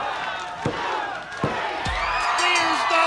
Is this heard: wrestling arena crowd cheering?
yes